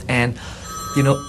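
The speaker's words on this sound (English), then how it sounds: "that's the phone ringing here" A hotel room telephone rings in two loud electronic bursts with a short gap between them, and a voice is briefly heard alongside.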